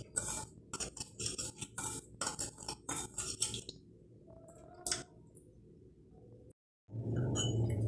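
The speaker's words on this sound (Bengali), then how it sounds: "ময়দা দিয়ে দিলাম, তার সাথে সুজি দিয়ে দিলাম। এবার দুটো একসাথে মিক্সড করলাম।" Flour and semolina stirred together in a bowl, giving soft scraping and clicking strokes in an irregular rhythm, close and fairly quiet, followed by a short pause and a steadier rush.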